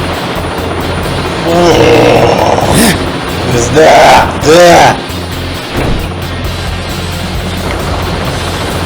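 Helicopter in the Teenage Mutant Ninja Turtles 2003 video game gives a steady rotor drone throughout, under voices talking over it.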